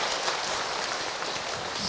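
Steady audience applause during an Islamic lecture session, a continuous dense patter of clapping from a crowd, even in level throughout with no speech over it.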